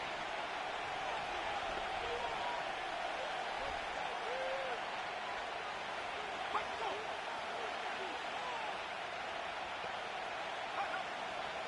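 Stadium crowd noise in an EA Sports NFL football game between the Seahawks and Patriots, a steady, dense roar of cheering on a third down that holds at an even level throughout, with no voices rising above it.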